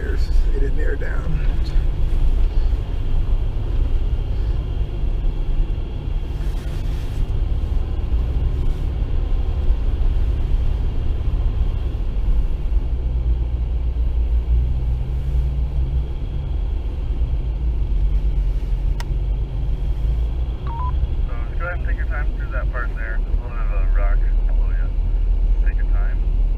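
An off-road vehicle's engine labors up a steep hill on tires that have not been aired down, a steady low rumble running throughout with people talking over it.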